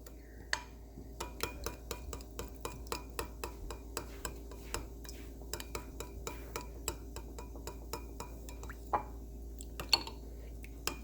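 Ketchup and a large amount of garlic being stirred together for a honey garlic sauce, a steady run of light clicking taps of a utensil against the bowl, close and fairly quiet.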